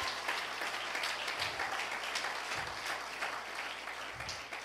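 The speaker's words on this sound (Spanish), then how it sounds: "démele un fuerte aplauso al Señor" A church congregation claps loudly and steadily during a worship service, a continuous wash of applause with faint low thumps underneath.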